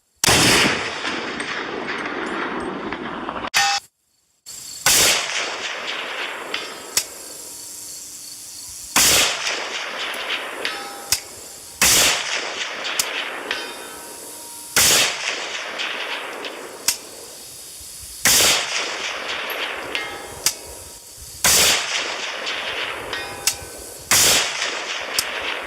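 PSA AK GF3 AK-47 rifle fired at a 400-yard target outdoors, eight or so sharp, loud single shots spaced a few seconds apart, each followed by a brief ringing decay.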